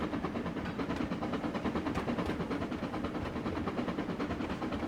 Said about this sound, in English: Sound of the engine changed at 30 miles per hour.